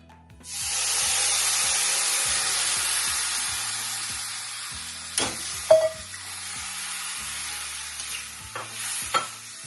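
Vermicelli boiling in water in a pot on a low flame, a steady bubbling hiss that starts abruptly and carries on throughout, with a few brief clinks and taps near the end over a faint low musical tone.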